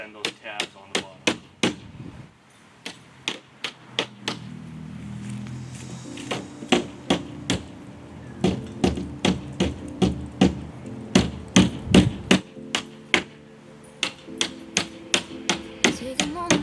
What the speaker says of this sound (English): Hammer that edge in.